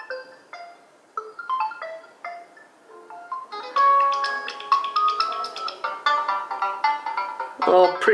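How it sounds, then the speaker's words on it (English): A Realme C35 phone plays a ringtone as a sound test, bright melodic electronic tones stepping in a tune, starting soft and growing louder and denser, played alone up close. "We're gonna test the sound of the phone."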